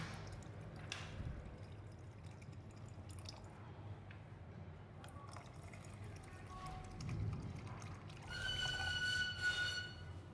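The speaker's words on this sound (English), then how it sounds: "We're going to add more water inside." Water poured into cups of stone granules for roof tiles makes quiet trickling and dripping, with a brief brighter splash near the end, faint over low background noise.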